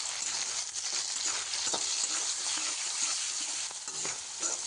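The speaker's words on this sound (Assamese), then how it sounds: "এতিয়া হেতাখনেৰে অকণমান এয়া মই লৰাই দিছোঁ।" Taro leaf curry with turmeric being stirred in hot oil in a pan with a spatula, a steady close sizzle throughout with soft scraping strokes and no talking.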